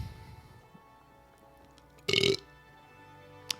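A single loud burp bursts out partway through, followed by a brief click, against a quiet background.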